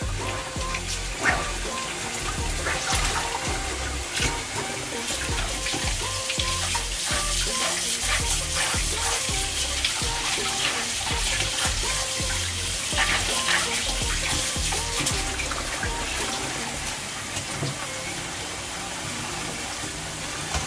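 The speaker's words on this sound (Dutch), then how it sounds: "Dus dan loopt het water al lekker door." Tap water running steadily while goalkeeper gloves are rinsed, a continuous splashing hiss with small bursts of spatter from handling, close and constant throughout.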